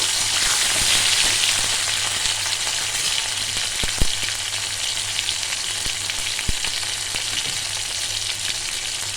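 Bata fish curry fries in a pan with a loud, steady, close sizzle throughout, broken by a couple of sharp clicks from stirring and no voices.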